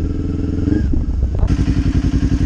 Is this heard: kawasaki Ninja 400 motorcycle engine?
yes